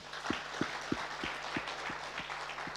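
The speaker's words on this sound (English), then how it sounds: "Please, a round of applause." A hackathon crowd claps in a soft, steady patter, with a few sharper, heavier thumps landing at a regular beat underneath.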